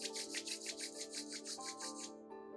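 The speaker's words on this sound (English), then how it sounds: "let's start rubbing the palms to create heat in the palms" During a prenatal yoga session, palms are rubbed briskly together to build heat, giving a quick run of about a dozen even, soft rasping strokes over a quiet musical drone.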